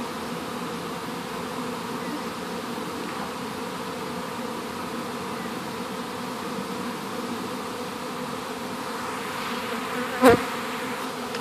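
A honeybee swarm drifts from a large hive over to a bait hive, a constant soft buzzing drone from many bees in the air, steady and fairly faint, broken near the end by one brief sharp knock.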